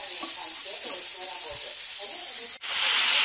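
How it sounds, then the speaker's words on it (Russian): Potatoes fry in lard in a pan with a loud, constant sizzle and crackle up close, faint talk underneath, and a brief clunk before the hiss swells. "Картошка жарится."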